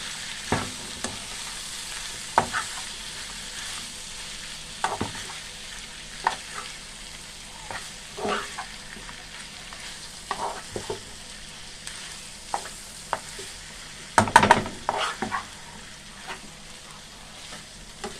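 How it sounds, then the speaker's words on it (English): Ackee and saltfish fry in a pan while being stirred, a low steady sizzle broken by repeated spoon scrapes and knocks against the pan, with a busier burst of stirring near the end. "after we add our ackee, we're just going to give it a next mixing like so"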